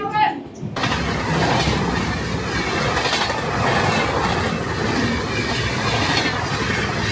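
Amrit Bharat Express passenger train running between Malda and Bangalore, heard from on board as a continuous loud rumble of wheels and carriage noise, with a brief quieter moment at the very start before the steady roar takes over.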